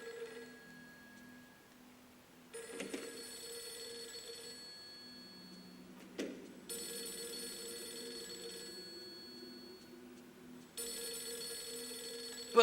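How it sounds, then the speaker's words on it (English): Repeated rings of a telephone in the horror game Project Zero 3 come in separate spells with gaps between them. They are fairly quiet over a hum of game ambience, with no voices. "if Miku is actually home and is also deliberately ignoring the phone"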